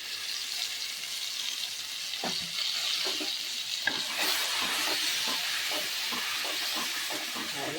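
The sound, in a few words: paste sautéing in pan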